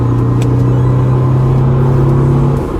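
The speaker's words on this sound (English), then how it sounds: "F20C, beautiful sound" A 2003 Honda S2000 with its F20C engine and completely stock exhaust revs hard, giving a loud, smooth, sustained high-revving tone heard close up that holds steady and then eases off at the end.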